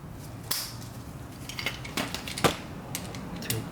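A torque wrench tightens a brake caliper bolt on a 1999 Mazda Miata MX-5 fitted with a Brembo rotor and Hawk HPS pads. Sharp, irregular metallic clicks and ratcheting snaps sound close by over a quiet background.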